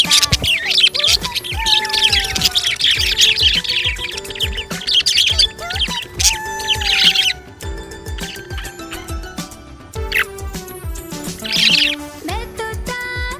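A happy budgie parrot chirps in quick bursts of high tweets that come and go over a steady, rhythmic children's song with a thumping beat.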